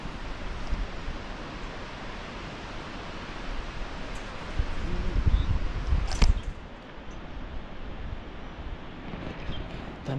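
Heavy flowing water from a distant waterfall, a steady broadband roar with some wind buffeting on the microphone, and no talking.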